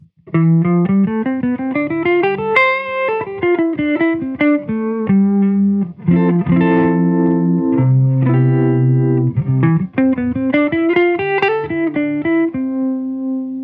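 Electric guitar through a Jam Pedals Harmonious Monk V2 harmonic tremolo pedal with sine wave, playing a melodic phrase of sustained notes with a pulsing, wobbling tremolo effect, loud and clear with no voices.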